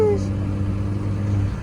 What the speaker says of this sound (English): We do got a little turbo leak.